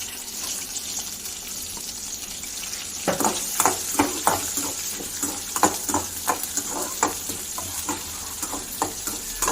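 Onions and a green chilli sauté in a pan for a khichdi, a steady sizzle running underneath a series of sharp spatula scrapes and stirs that start about three seconds in and keep a loose, irregular rhythm, close and with no voices.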